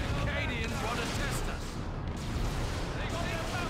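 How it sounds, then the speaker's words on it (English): Rapid crossbow pistol volley (Crippling Volley) fired by an Imperial Guard unit in Dawn of War 2 Retribution, blended into a dense, loud, continuous wash of battle noise with booming impacts. "it is just basically a rapid fire of a crossbow"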